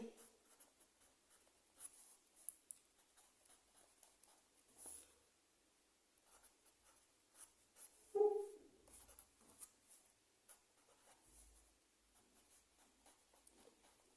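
Handwriting as linear equations are written out during a Class 10 maths lesson: faint, scattered scratching strokes of pen on paper, mostly quiet with a few brief louder scrapes and no talking.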